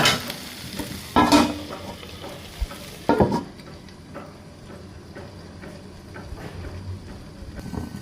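Okra slices frying in a covered pan, a soft continuous sizzle with a couple of sharp clanks of the lid being handled early on, then quieter steady frying.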